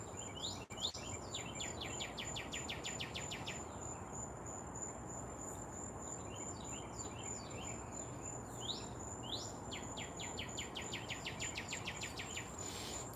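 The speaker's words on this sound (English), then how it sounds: "A lot of birds are talkative this morning." Birds chirping in a garden in the morning, quick repeated bursts of high twittering over a steady insect-like drone, fairly faint, with no talking.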